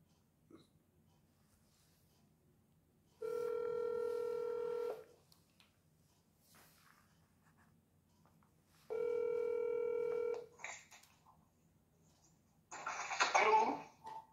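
Two bursts of push-button telephone dialing tones, each lasting about a second and a half, with a short gap between them, followed by a brief rustle and a noisy crackle.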